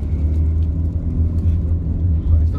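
A 2019 Proton Iriz 1.3 gives a low, steady engine rumble from inside the cabin as it accelerates, with faint wind and road noise and no talking.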